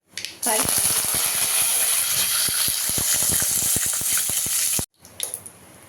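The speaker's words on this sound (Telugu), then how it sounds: "2 ఎండుమిరపకాయలు, 3 వెల్లుల్లి రెబ్బలు వేసి బాగా ఫ్రై చేయాలి." Dried red chillies, garlic cloves and mustard seeds fry in hot oil in a pan for tomato chutney, a loud, dense sizzle peppered with rapid crackling pops that starts abruptly and cuts off suddenly near the end.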